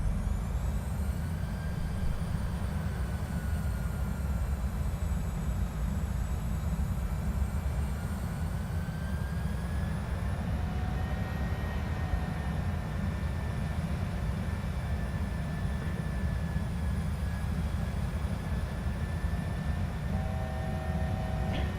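A PMDG 737 airliner goes around in Microsoft Flight Simulator 2020, with a steady, loud engine roar and rumble that holds throughout without speech.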